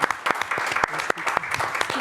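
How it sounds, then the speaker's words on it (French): Short, uneven applause at a public debate on migration, a few seconds of clapping in sparse bursts from a modest audience, fairly close with some voices mixed in. "On peut applaudir."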